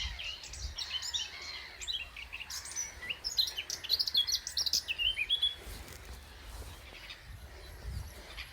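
A robin sings among other small birds in dense spring greenery at a lakeside nature reserve, bright chirps and warbling phrases coming in quick bursts at moderate distance over a soft outdoor hush.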